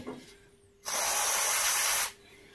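Aerosol spray hisses onto parts of a Honda CT110 Postie Bike in one steady burst of a bit over a second, close and loud, with quiet before and after.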